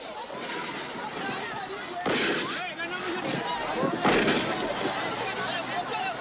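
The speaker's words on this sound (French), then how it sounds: "Des coups de feu claquent" Gunfire in archival war footage from Elisabethville, Katanga, with two sharp, loud bursts around the middle of the clip standing out over a continuous crackling, noisy background with voices.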